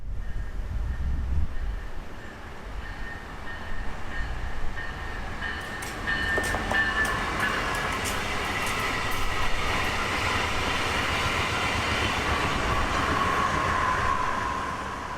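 A pink Brightline passenger train, number 723, southbound from Orlando, rolls through West Palm Beach with a loud steady rumble of wheels on rail, bell-like tones and rising squeal as it passes close by.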